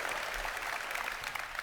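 An audience at a Citizen Con convention event claps in a brief, dense burst of steady applause.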